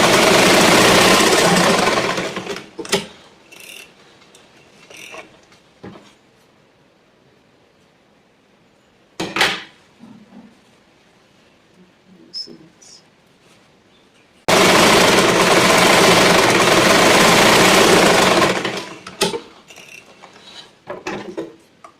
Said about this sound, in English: we go to the machine and start sewing